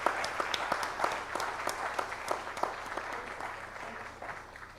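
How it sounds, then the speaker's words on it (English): Scattered applause from the audience at a silver jubilee celebration, fairly soft and somewhat distant, with distinct individual claps popping out of a light, continuous patter. "A big round of applause for Reena"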